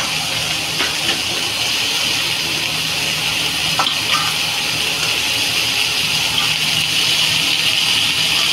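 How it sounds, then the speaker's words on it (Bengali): Water pours into a hot pan of vegetable curry, giving a loud, continuous hiss with faint bubbling and a brief knock near the middle. "তরকারিতে এবার জল দিয়ে দেবো, একটু পাতলা ঝোল করব।"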